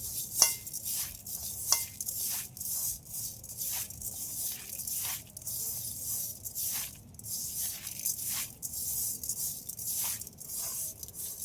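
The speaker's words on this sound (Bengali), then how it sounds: "এসব একসাথে একটু ভালোভাবে এইভাবে মিশিয়ে নেব" A spoon scrapes and squelches through a thick palm sweet filling mixed with milk powder in a bowl, repeated rhythmic stirring strokes, close and fairly quiet, no voices.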